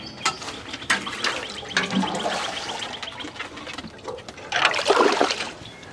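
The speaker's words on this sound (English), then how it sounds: "I'm just going to water my plants with a watering can" Water pours from a watering can onto tomato plants in a garden, a steady splashing trickle that swells louder near the end.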